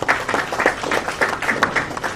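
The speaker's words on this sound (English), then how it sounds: "Those who are doing it, we want to applaud them." Audience applause at a football association ordinary congress, a moderate spread of clapping from the hall that rises and falls in uneven bursts.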